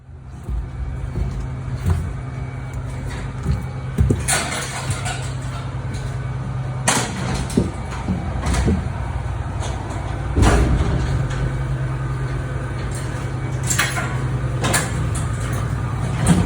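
A cattle truck loaded with cattle headed to South Texas idles with a low, steady engine rumble, overlaid by scattered clanks, bumps and shifting knocks, fairly close and without voices.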